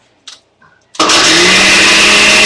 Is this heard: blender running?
yes